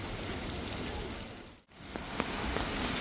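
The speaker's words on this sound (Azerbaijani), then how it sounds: "Hava yenə birdən-birə çöndü və yağış yağır." Rain falls steadily in Batumi, a close hiss of drops on hard surfaces with a brief dropout midway and a few sharper drip taps.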